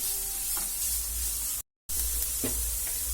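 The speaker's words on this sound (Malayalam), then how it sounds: "ഉപ്പ് ചേർക്കാം. ഈ സവാള ഒന്ന് വാടുന്ന വരെ ഒന്ന് വെയിറ്റ് ചെയ്യാം." Onions cooking with salt for samosa filling give a close, steady hiss of frying with a few soft stirring taps, broken by a brief moment of silence.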